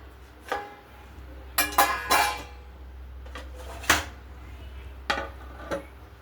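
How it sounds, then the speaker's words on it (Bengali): Lids clink onto dishes of cooked food, rice and fried items in a home kitchen, several sharp metallic taps and clatters spaced out over low room hum. "এখন আস্তে আস্তে ঢেকে রাখি।"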